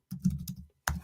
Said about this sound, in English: I was typing in TTD and it was bringing up this other thing